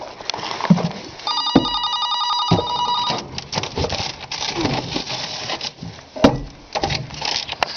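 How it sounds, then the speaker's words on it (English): A telephone bell rings in a repeated trill for about two seconds, with room noise and brief knocks before and after. "Oh, listen to that. The phone is ringing."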